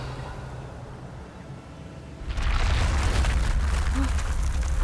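In Hogwarts Legacy the Revelio spell is cast, setting off a sudden broad whooshing surge that stays at a loud, sustained roar after a quiet opening.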